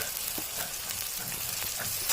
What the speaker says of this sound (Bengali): ভালো করে একটু ভাজা ভাজাতে নিব।